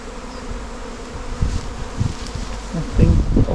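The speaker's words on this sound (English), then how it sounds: "There's a whole load of bees around this high." A swarm of honeybees buzzing around a hive, a dense continuous hum close to the microphone with louder passes as bees fly near.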